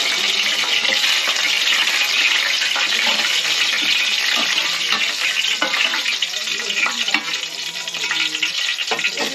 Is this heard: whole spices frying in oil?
yes